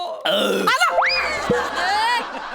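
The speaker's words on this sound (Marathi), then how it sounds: "आला आवाज आला खर्चातला ठेकर आली ढेकर" A man on a Marathi comedy stage show lets out a loud, drawn-out burp with a groaning, voiced quality, bending in pitch over about two seconds, close and prominent.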